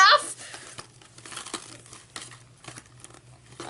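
Plastic toy packaging crinkles and tears as a baby doll is unwrapped, close crackling bursts over a faint steady hum, with someone talking over it.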